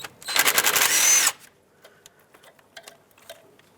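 A power tool backs out the 10mm bolt holding the ABS wire bracket on a 2003-2009 Toyota 4Runner during a front brake job: one loud, close whirring burst of about a second, then faint scattered clicks and handling noises.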